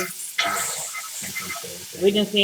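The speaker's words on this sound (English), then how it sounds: "I'm going to put butter in the skillet." Butter sizzles and spatters in a hot skillet in a home kitchen, a steady frying hiss with brief stirring scrapes, and a person talks over it.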